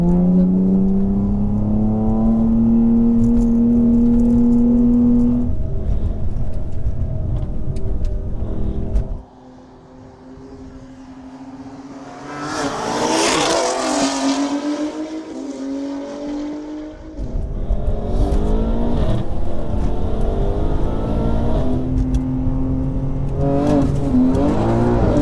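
A BMW M2 xDrive accelerates hard, its engine note climbing through the gears in loud rising sweeps, dipping briefly between shifts and building again, with no voices.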